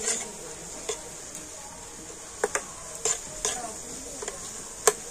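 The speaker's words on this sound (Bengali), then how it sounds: "সুজিটা দিয়ে না জলের সাথে কিন্তু খুব ভালো করে এইভাবে মিশিয়ে নেব" Semolina being stirred into water in a pan, with sparse scraping and tapping strokes of a spoon against the pan at irregular intervals over a faint sizzle, close and fairly quiet, no talk.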